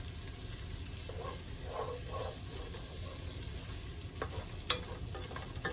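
Ham crisps in a pan on a stove while being stirred, giving a soft, steady sizzle with faint scraping and a few small clinks, heard close with no talking.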